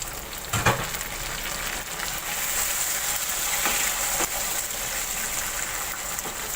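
Tomatoes sizzling and frying in hot ghee with onions, a continuous crackling hiss with a few sharper pops and stirring clanks.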